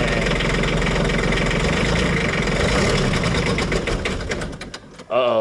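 Kubota diesel tractor on summer diesel fuel after a cold start, with a steady rattling, knocking idle close by that sags toward the end as it nearly stalls, followed by a brief voice.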